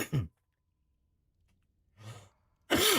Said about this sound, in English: sorry for coughing right in your head